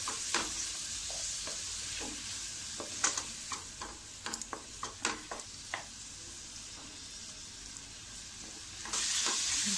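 An onion and tomato mixture is stirred in a pan for matar paneer, with a soft steady sizzle broken by a run of clicking spoon scrapes, and the hiss rises toward the end.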